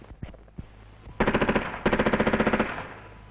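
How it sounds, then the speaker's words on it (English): Soldiers test fire weapons before heading out on operations in 1968: two loud, close bursts of rapid automatic gunfire, each a steady rattle of about a dozen shots, preceded by a few scattered single reports. "The test firing before going out on operations ensures the correct operation of weapons and ammunition."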